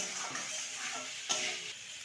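A spoon stirring boiled potatoes with turmeric and salt in a pan, soft scraping with a faint sizzle and one sharper clink of utensil on metal, close and fairly quiet.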